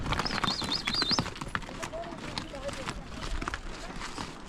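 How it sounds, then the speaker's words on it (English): A pack train of donkeys and mules on a mountain trail toward K2 base camp, with close, uneven clip-clopping hooves and a brief bray or whinny, heard under nearby talking. "Got a train of some donkeys and mules here."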